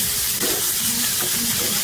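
Ginger and garlic paste added to frying onions in a pan for chicken tikka masala, a loud continuous sizzle and hiss close up, with faint stirring underneath.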